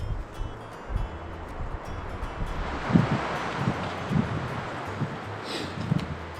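Strong gusts blow outdoors in Montana deer and elk country, rushing and buffeting the microphone with rustling and a few low thumps, swelling and easing over a few seconds.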